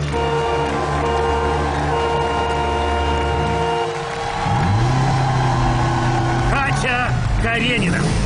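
A car engine revs steadily while the car swings a flail through a course of six shields, holding a loud droning pitch, briefly dipping, then climbing again in rising and falling surges as a voice speaks over it.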